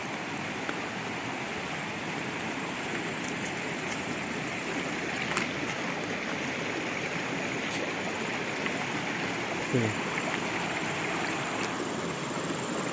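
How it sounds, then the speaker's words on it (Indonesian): A river stream flows steadily with a constant broadband rush of water, loud and continuous throughout, with no speech heard. "kita akan menyeberangi sungai ini dulu"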